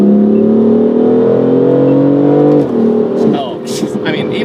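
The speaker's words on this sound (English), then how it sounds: "Oh, I love the burbles." A BMW M4 Convertible engine pulls hard and rises in a loud, close drone, then drops off as the throttle lifts into a spatter of popping, crackling exhaust burbles.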